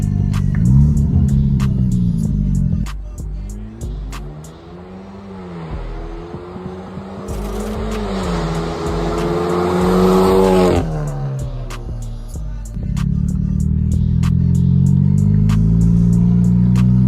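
A Hyundai Genesis Coupe 2.0T on a straight-pipe exhaust revs loudly and close, its raw engine note rising and falling, with sharp crackling pops on deceleration scattered throughout.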